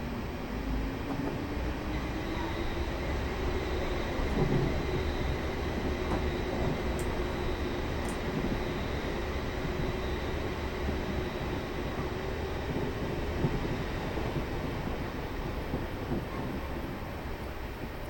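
Class 450 electric multiple unit running in Train Simulator 2020 on the Portsmouth Direct Line, a steady continuous rolling drone with a faint motor whine throughout, loud and unbroken, with no voices.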